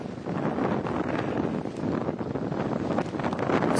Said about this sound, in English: Never been on Superior with a wind like this.